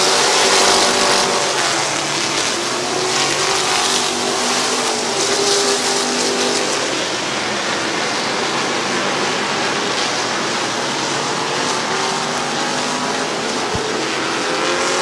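Race cars circling Midvale Speedway, a dense continuous roar of several engines from a distance, steady and loud with a slight drop partway through.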